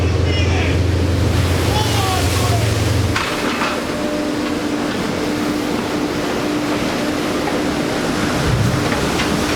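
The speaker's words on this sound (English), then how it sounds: "The winds are tracking at 80 miles an hour, and the waves are cresting at 38 feet." Storm winds of about 80 mph and high waves of around 38 feet at sea batter a fishing boat, giving a constant loud roar of wind and surging water with a low engine hum beneath it and voices in the mix.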